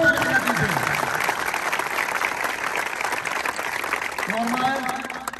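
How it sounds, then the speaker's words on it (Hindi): Loud audience applause at a physical training academy event, steady dense clapping throughout with voices faintly mixed in underneath. "एक बार जोरदार ताली बजा दीजिए।"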